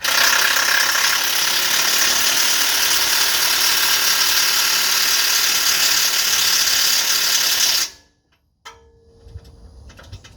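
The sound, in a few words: ratchet tightening suspension bolt on a Range Rover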